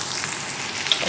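Tarka spices for beef karahi fry in hot oil with a continuous close crackling sizzle and scattered pops, with no voices.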